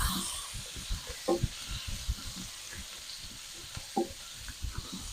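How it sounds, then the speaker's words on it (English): Vegetables sizzling in a pan as they cook down with thyme, salt, pepper and garlic, a steady soft hiss broken by light stirring scrapes and clicks, close and alone. "we're just going to cook these vegetables down until they start to let their oils out"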